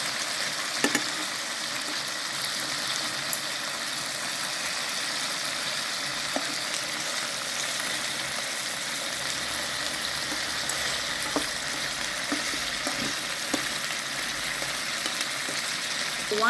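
Chicken wings frying in a pan, a steady close sizzle and crackle with occasional clicks of turning or stirring and no voices.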